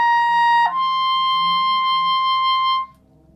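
A clarinet holds a steady high C, then jumps to an altissimo D that rings bright and pure for about two seconds before stopping.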